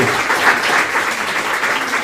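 Dense audience applause at a political convention workshop, loud and steady throughout with no talk over it.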